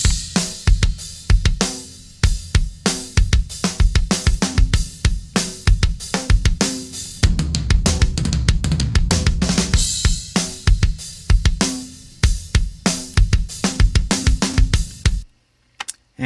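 Metal mix drums captured by a mono room mic sent through tape, playing loud and dense with fast, steady kick and snare hits and crashing cymbals, running continuously before an abrupt stop; no talking.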